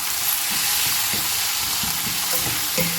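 Chopped tomatoes and onions fry in a pan for a mushroom curry. A loud, continuous sizzle fills the clip, broken by occasional soft scrapes from stirring.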